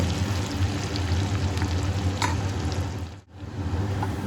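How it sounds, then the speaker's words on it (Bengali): Chopped onion frying with tempering spices in hot oil while being stirred, a steady dense sizzle throughout with scraping stirs and a brief dip near the end. "এবার পেঁয়াজ কুচি ফোড়নের সঙ্গে ভালোভাবে নেড়ে চেড়ে সুন্দর সোনালি কালার করে ভেজে নেব"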